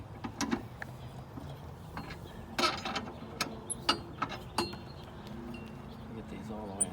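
Bolts on a spare tire mount of a 2008 Jeep Wrangler are tightened with scattered ratchet clicks and metallic clinks, fairly faint and close, over a low background hum.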